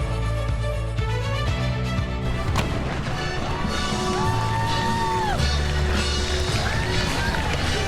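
Crowds of spectators cheering and whooping along the streets for runners at the New York City Marathon, a dense, steady roar with music and shouts mixed in, rising at moments.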